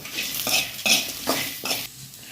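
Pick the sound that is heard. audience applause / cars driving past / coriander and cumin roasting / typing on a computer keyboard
coriander and cumin roasting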